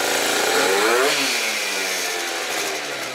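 Modified, fully built 70cc Yamaha Zuma scooter engine running during a warm-up heat cycle, a steady buzzing two-stroke drone close by that dips slightly in pitch partway through, with no talking.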